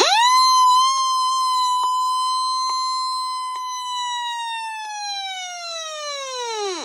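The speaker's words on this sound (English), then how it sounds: "And now let's do an alert test." An Eton Microlink FR170 emergency radio sounds its alert test tone, one loud, steady electronic whine lasting about seven seconds, close and alone, with a slight sag in pitch as it stops.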